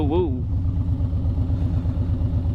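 Motorcycle engine fitted with a stainless aftermarket exhaust, a steady low pulsing thrum while riding, close and prominent, with a brief voice near the start.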